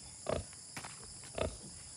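A mother pig with her newborn piglets on a free-range farm gives two or three short, low grunts, close by and separated by quiet pauses.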